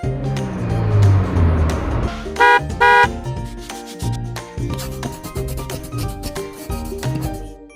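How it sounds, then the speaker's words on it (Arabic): A taxi idles amid traffic, and two short, loud horn honks sound close together partway through over continuous engine and road noise. "سيارة أجرة"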